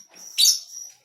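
A single short, shrill chirp from oriental magpie-robin (kacer) chicks, close and clear, preceded by faint twittering and quiet afterward.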